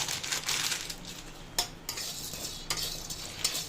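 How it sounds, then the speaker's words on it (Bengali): Green cardamom pods fry in a pan over medium heat for a spice blend, with a soft sizzle broken by several clicking stirs and light metal clinks nearby, no speech. "এটা ছোটো এলাচ, এটাকে মিডিয়াম আঁচে ভাজতে হবে।"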